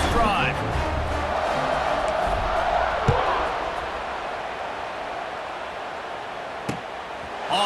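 Stadium crowd noise from an EA Sports College Football game, a broad steady roar during a kickoff with faint cheering swells and a couple of brief thumps, kept under low, continuous background sound.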